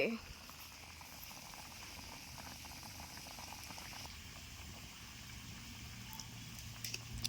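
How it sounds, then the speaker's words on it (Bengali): Potatoes boiling in a pot over an outdoor picnic cooking fire, a quiet, continuous bubbling and gurgling that stays fairly even throughout. "আলু সিদ্ধ হয়ে গেছে, এখন নামিয়ে নিবে।"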